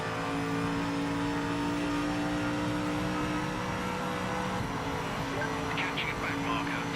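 Sustained GT3 race car engine drone in the Project Motor Racing sim, a steady loud hum running throughout at even pitch with a faint rising rev near the end, under light background talk.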